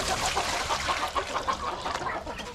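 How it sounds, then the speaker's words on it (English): An old rooster crows on a farm, a loud, close, hoarse call that holds steady for about two and a half seconds with no talking over it. "This old rooster here"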